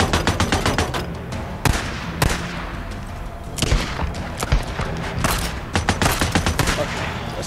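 Gunfire in the video game Days Gone: loud bursts of rapid shots and single cracks repeat over several seconds, some clustered like automatic fire, with brief gaps between volleys.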